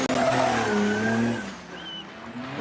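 A diesel-powered Mercedes-Benz 198 drift car from the Black Smoke Racing team launches at a DriftMasters event. Loud engine roar and shrieking tyre squeal come first, then fade into a quieter skid tail.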